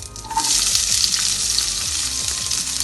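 Onion and green chili sautéing in a pan for a ponnanganni keerai kootu, with soaked toor dal added, giving a steady, close sizzling fry with faint stirring scrapes throughout and no talk.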